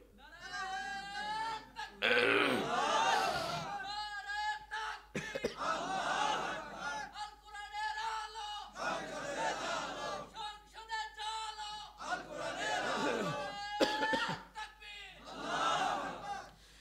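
A crowd at a Bengali religious sermon shouts the takbir, Allahu Akbar, in loud, repeated chanted bursts, voices rising together and falling away in a steady call-and-response rhythm.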